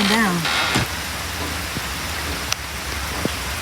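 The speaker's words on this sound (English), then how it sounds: "This is the kind of rain that's going to leave a rainbow." Steady summer rain falls outdoors in nature, a broad continuous hiss with occasional louder drops, while a voice speaks briefly at the start.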